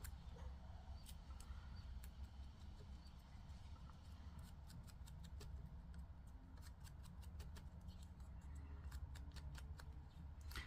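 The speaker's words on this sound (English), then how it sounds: "let's snip that one down" Scissors snipping a paper journaling card, a series of faint, quick crisp cuts in irregular clusters over a low steady background hum.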